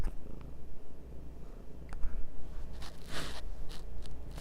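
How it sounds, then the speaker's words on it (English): A Bengal mix tabby cat purrs close and steady in low rhythmic rumbles, with a few faint rustles and small handling noises around it, no one speaking. "he's a super sweet cat"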